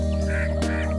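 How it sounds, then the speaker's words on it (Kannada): Chicks and hens cheeping in a country poultry shed, a busy layered chorus of small bird calls heard up close over a steady background hum. "ಇಲ್ಲಿ ನೋಡ್ತಿರ್ಬೋದು ಮರಿ ಕೋಳಿ"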